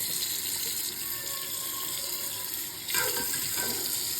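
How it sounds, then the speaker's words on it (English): Tap water runs steadily into a kitchen sink in a continuous hiss, with the flow changing and splashing more heavily near the end, no voices. "I'm gonna turn some water on so that we don't have boiling water going down our drain"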